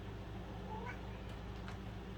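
A hungry pet cat meows indoors at feeding time, giving a few short, faint cries in the middle of the clip over a low steady background hum.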